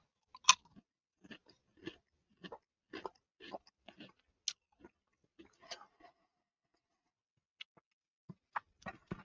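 Crunchy Goldfish Mega Cheddar Jalapeno crackers being chewed close up, with irregular crisp crunches and bites in quick bursts, then sparser single crunches, and no talking.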